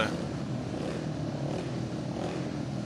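A speedway motorcycle engine at a Polish speedway meeting in Ostrów Wielkopolski, a steady droning roar heard at a distance that holds unchanged throughout.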